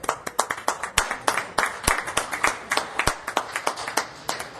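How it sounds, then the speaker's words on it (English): Applause at a city council meeting in Baldwin Park: a modest round of scattered hand claps, irregular and fairly close, from a small audience. "Round of applause."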